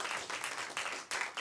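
Audience applause for a duo after an intimate concert performance, a dense patter of clapping that holds steady and surges again near the end, fairly close and full.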